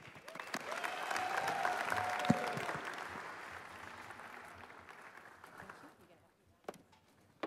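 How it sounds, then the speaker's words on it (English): Audience applause fills an awards ceremony hall at the National Arts Merit Awards, a sustained burst of many clapping hands that swells, then fades out, leaving near silence. "Shall we give you another round of applause, ladies and gentlemen?"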